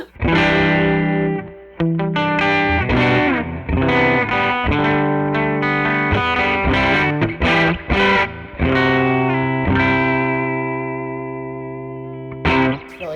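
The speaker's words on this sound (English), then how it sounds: "So I'll start where I always do, which is the bridge pickup." Distorted electric guitar chords and riffs played on a Jazzmaster's bright, biting bridge pickup, loud and continuous with short pauses, some reverb and effects.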